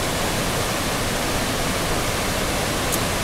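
A mountain waterfall in Thailand roars in a steady, loud, unbroken wash of falling water, close by, with no voices.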